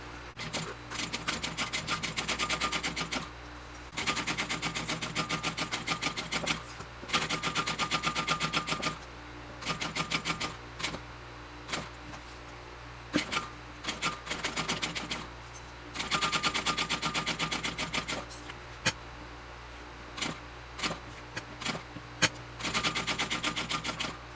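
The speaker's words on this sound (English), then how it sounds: "I'm going to start sewing this from this mark here and then come all the way out and finish over here" A sewing machine stitches a Brivet backpack in rapid mechanical bursts, each run of fast needle clatter lasting a few seconds and separated by brief pauses, close and clear with no talking.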